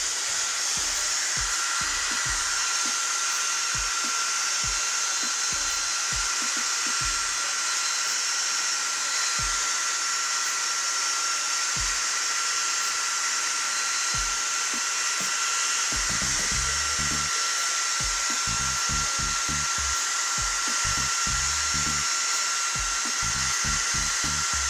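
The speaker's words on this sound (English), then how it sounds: "Hold the dryer up." A hair dryer runs continuously, loud and close, as it dries a freshly built Thunderhawk Gunship model, its steady high whine broken by low bumps and handling thumps.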